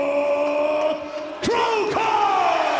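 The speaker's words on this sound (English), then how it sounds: "Listen to the sold-out crowd at the Saitama Super Arena." A sold-out arena crowd at Saitama Super Arena, waiting for a PRIDE fight, roars in a loud sustained swell of cheers, with one brief dip and rising whoops.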